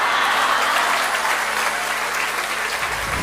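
Sustained applause from an audience filling Prajapati Hall in London, England, a dense, steady wash of clapping throughout that eases off slightly near the end.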